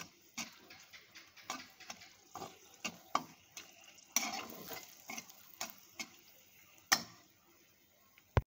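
Chillies and lentil fritters frying in oil, with soft sizzling under a series of sharp, irregular scrapes and taps from a stirring utensil, close and fairly quiet.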